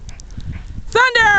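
Puppies romp through fresh spring snow over a muddy dog yard, with one sharp, tonal yelp-like bark rising near the end, close and loud, preceded by soft scuffling and faint background sounds.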